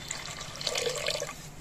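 Water runs from a tap and splashes over chana dal lentils being rinsed in a bowl, a soft, steady trickle with light sloshing throughout.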